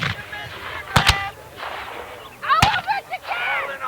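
Musket volleys at a Civil War battle reenactment, two sharp nearby reports about a second and a half apart, with voices shouting commands around and between the shots.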